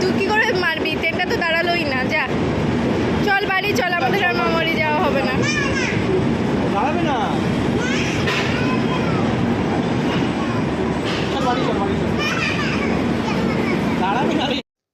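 A train rumbles past close by with rhythmic clattering and squealing wheels, while people talk and children's voices rise over the noise.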